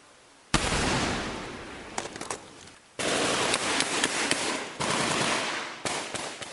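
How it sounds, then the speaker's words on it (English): Small arms fire crackles in sustained bursts during a Taliban ambush in the Korangal Valley, Afghanistan, with sharp loud volleys separated by short lulls. "the Taliban begins an ambush with small arms fire and rocket-propelled grenades"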